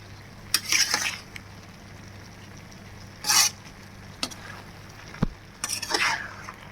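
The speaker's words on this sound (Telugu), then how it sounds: "మధ్యలో ఒకసారి కలుపుకుంటున్నామండి" A spoon stirs eggplant curry in a pot, making a few separate short bursts of scraping and clattering against the metal, with a quiet cooking hum and low background noise between the strokes.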